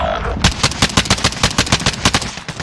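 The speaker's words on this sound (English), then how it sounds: "Flashbang going out." Rapid bursts of automatic gunfire in Call of Duty Modern Warfare Warzone, a loud rhythmic string of shots closely spaced after a brief opening, with a flashbang grenade in the fight.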